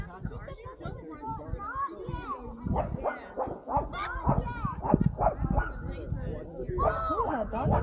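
Dogs playing bark, yip and whimper in repeated close bursts outdoors, loud and irregular, with people talking intermittently underneath.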